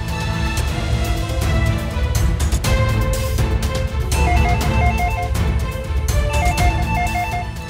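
A phone rings during a call to a boarding school, a repeated electronic melody playing steadily and loudly over a background of music and noise.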